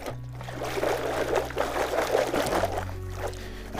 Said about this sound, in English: I'm just gonna give these guys a quick rinse here